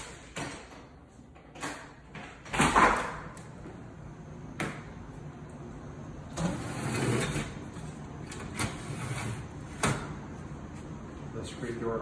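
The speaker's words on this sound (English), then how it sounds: "The screen door appears functional." A screen door in a house under inspection is opened and closed, giving several sharp clacks and rattling slides spread through the stretch, under a faint background of talking.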